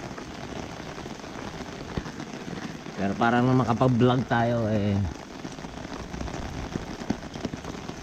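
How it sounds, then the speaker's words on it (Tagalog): Steady heavy rain hisses throughout, with a person speaking briefly over the downpour partway through. "Tingnan nyo guys, napalakas ang ulan."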